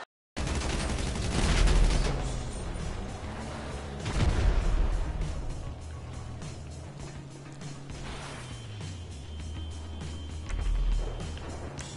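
Gunfire fills a shooter video game in dense, continuous bursts, with rapid automatic fire and heavier booms overlapping at a loud level for several seconds.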